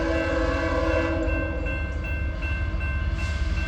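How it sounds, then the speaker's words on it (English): A loaded CSX coal train passes nearby at Morgan Station with a continuous deep rolling rumble, and steady horn tones sound over it. "Alright, we got a loaded coal train."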